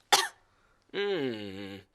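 One sharp, breathy cough, then after a short pause a drawn-out, nasal honking cough from a cartoon character, close and fairly loud.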